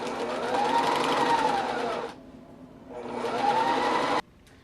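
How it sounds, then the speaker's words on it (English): A sewing machine runs two close bursts of stitching down the sides of a fabric bow headband, each a loud whirring run of about two seconds with a short pause between them. "Then you can do a straight or zigzag stitch along each side."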